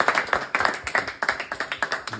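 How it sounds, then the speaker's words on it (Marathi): People at a Ganesh festival prize-giving clap for themselves, a brief burst of quick, slightly uneven claps at moderate volume. "स्वतःसाठी टाळ्या वाजवा."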